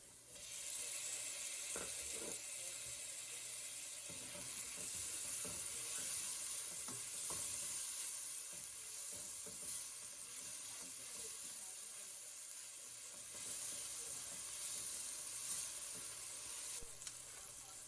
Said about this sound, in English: add in the chopped tomatoes and cook for another 2 minutes.